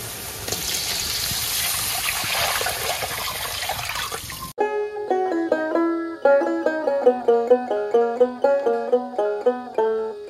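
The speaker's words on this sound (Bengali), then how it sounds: "এবার জল দিয়ে দেবো" Water pours into a pan of spiced fish curry, a steady gushing, splashing rush lasting a few seconds, loud and close, then cut off by a bright, rhythmic melody of plucked tones that continues to the end.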